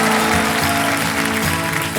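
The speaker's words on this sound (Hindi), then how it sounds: "ताली बज जाए इनके लिए।" A studio audience at the Kaun Banega Crorepati quiz show breaks into dense, continuous applause that stays loud and even throughout, with a tonal musical bed underneath.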